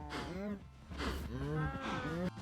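Several cows crammed into a Minecraft cow crusher farm moo continuously, with low overlapping calls rising and falling one after another under a little faint background talk.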